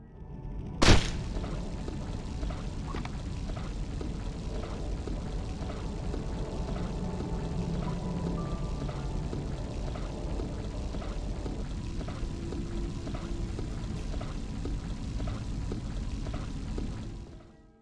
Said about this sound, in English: video game fish tanks that realistically drain when shot